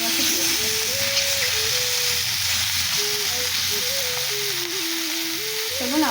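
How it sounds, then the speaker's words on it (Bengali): Raw shrimp sizzle loudly and continuously in a hot pan, a dense hissing fry heard close up, with a voice speaking over it. "মা এবারে চিংড়ি মাছগুলো দিয়ে দিচ্ছে, কাঁচা চিংড়ি মাছই দিয়ে দিবে"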